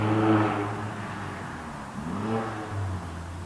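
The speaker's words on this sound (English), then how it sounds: "Someone's racing along there in their Jetta." A Volkswagen Jetta races past on a nearby road, its engine swelling loudly, fading, then rising again in a whirring, accelerating rush, alone.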